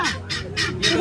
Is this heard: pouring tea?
no